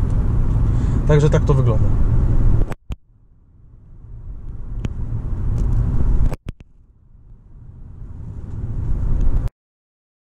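A Mercedes S550 W221 accelerates hard after a kickdown to overtake, its engine surging and rising in pitch through gear changes in repeated waves, heard from inside the car with someone talking over it.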